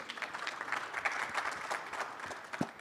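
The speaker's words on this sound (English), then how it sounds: "A round of applause" Audience applause at a social justice panel session honouring the chairperson of a human rights commission, steady dense clapping across the whole stretch with one sharper clap near the end.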